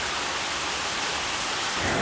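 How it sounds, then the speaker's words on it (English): Heavy tropical rain pours down beside the sea in Thailand during a thunderstorm, a steady, loud hiss of downpour with a low rumble swelling toward the end, no voices. "waited for the rain to stop or at least become a little less intense"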